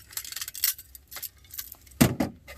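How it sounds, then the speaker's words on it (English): Metal chain links clink and rattle in a series of short, close jangles, with a louder clatter near the end. "Get that chain undone."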